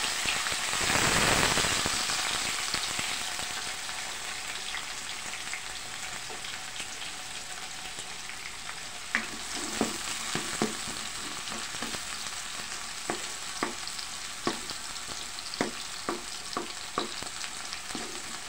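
Tomatoes sauté in a pan with upo for ginisang upo, giving a steady loud sizzle that opens with a big hiss surge, then settles into constant frying with scattered stirring clicks and scrapes, no voices.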